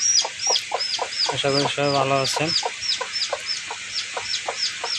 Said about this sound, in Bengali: আমার এই মুরগিটা আবার বাচ্চা ফুটাইতেছে।